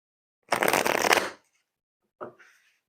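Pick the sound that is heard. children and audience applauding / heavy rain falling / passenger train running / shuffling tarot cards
shuffling tarot cards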